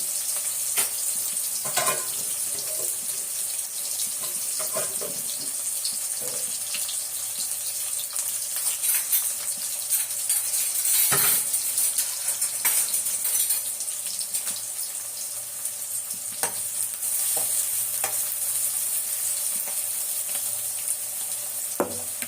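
Onions, about ten chopped native onions, frying in a pan for an egg kuzhambu, a steady loud sizzle running throughout with occasional stirring clatter and watery splashes, no talking.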